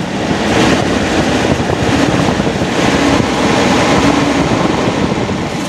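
A car radiator fan with a fan clutch blows hard with the engine running, giving a loud, steady rushing roar of air that holds at the same level throughout, with no talk.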